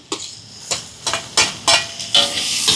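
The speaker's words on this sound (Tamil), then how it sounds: "இப்போ இதெல்லாம் நல்லா வதங்கட்டும். தக்காளி பழம் சேர்ப்போம்." Tomatoes sautéing in a pan, a series of about seven sharp hissing sizzle bursts at roughly regular intervals, each flaring and fading as the food is stirred.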